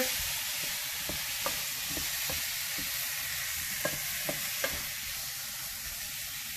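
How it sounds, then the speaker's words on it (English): A spoon stirring ingredients in a pan over low heat while preparing an Indian dish, with soft steady sizzle and light scraping taps repeating at an uneven pace. "So stir it together."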